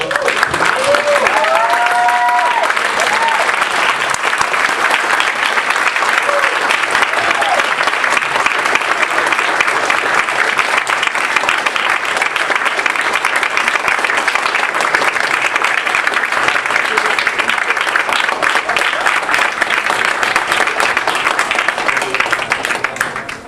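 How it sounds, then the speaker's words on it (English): Sustained audience applause at a Libertarian Party of California political debate in 2016, dense steady clapping filling the hall for over twenty seconds, with a few faint voices briefly audible near the start. "I want you to give a round of applause."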